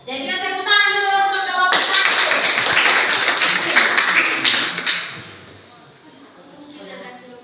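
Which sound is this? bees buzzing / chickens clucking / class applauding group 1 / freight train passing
class applauding group 1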